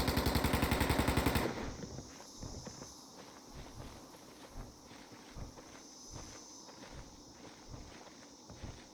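A rapid, loud burst of gunfire opens, then gives way to quieter, evenly spaced thuds and steps in a bunker.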